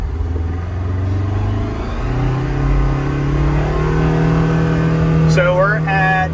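A 2024 Polaris Xpedition XP 1000 UTV engine accelerates up close, its loud drone climbing steadily in pitch and holding at high revs, with a brief chirp near the end.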